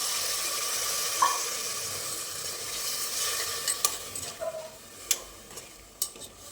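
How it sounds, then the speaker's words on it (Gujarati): Spice masala sizzling in a pan after a splash of water is added, a continuous hiss with scattered scrapes and sharp utensil clinks growing busier toward the end. "મસાલો દાજે નહીં એની માટે થોડું પાણી ઉમેરીશું."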